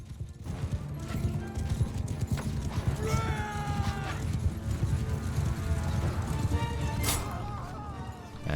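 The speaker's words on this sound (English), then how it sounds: "let's tell our cavalry and horse archers to charge in" Cavalry horses charging in a battle in the video game Mount and Blade Bannerlord, a steady dense drumming of hooves with a few whinnies over the top, fairly close, while someone talks faintly underneath.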